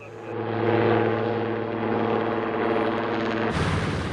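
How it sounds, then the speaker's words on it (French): A helicopter, used daily to ferry workers and equipment to a collapsed cliff worksite in the Maurienne valley, drones steadily overhead with a loud, continuous rotor and engine roar that shifts tone near the end. "L'hélicoptère est utilisé chaque jour pour monter les hommes et le matériel"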